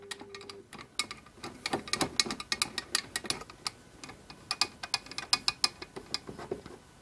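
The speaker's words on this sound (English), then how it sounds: "Once it lines in, fasten your screws back down." Screws being fastened back down on a Mars 3 Pro resin 3D printer, heard as a steady run of small crisp clicks and ticks from close by, with no talking.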